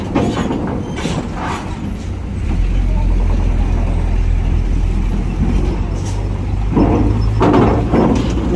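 Heavy truck brakes hiss loudly at Merak harbor over a deep, steady engine rumble, with a couple of sharper air bursts near the end.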